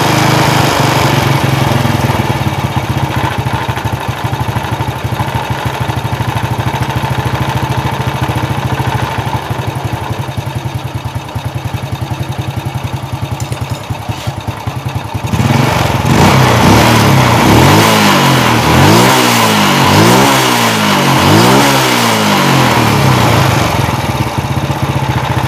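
A motorcycle engine idles steadily, then revs up and down in repeated rising and falling sweeps as the throttle is lowered and adjusted, loud and close throughout.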